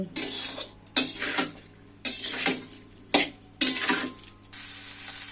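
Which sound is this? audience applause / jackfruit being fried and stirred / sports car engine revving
jackfruit being fried and stirred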